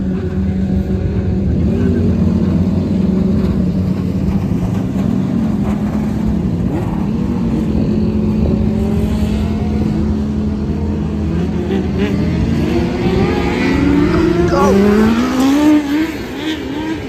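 A race car at practice on Port City Raceway runs loud and steady close by, its engine droning throughout and then climbing in pitch with rising revs toward the end.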